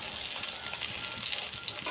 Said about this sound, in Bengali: মাছ মাছ ভাজা করছি আর ঢেকে রাখছি